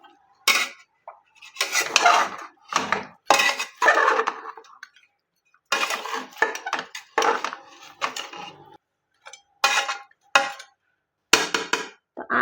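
A spoon scrapes and knocks against a pan while mutton chop masala is mixed, giving a series of close, irregular clinks and scraping strokes separated by short silences.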